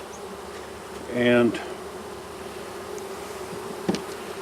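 Honeybees at a Langstroth hive give a brief, loud buzzing swell lasting about half a second, then drop back under a steady low hum with a faint click later; a voice speaks one word quietly.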